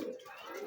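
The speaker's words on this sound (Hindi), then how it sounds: "ये देखें, बड़े तगड़े कबूतर हैं" Wild pigeons, sturdy birds kept by a pigeon fancier, give a short soft coo, close and moderately loud, with a faint murmur of background noise and no talk.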